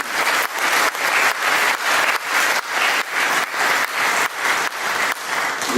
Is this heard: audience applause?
yes